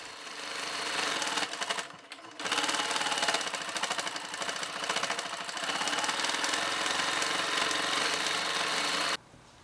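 A sewing machine basting quilted fabric, a rapid steady mechanical whirring stitch that runs continuously, pauses briefly, then resumes before stopping abruptly; close and loud with no voices.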